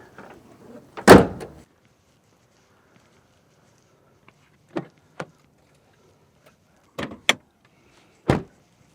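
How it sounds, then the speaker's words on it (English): A loud mechanical clunk and latch release as the hood of a 2023 GMC Canyon Denali pickup is popped, followed by a few sharp knocks and clicks spaced apart, close by with no talking. "Let's go ahead and pop the hood, check out the engine"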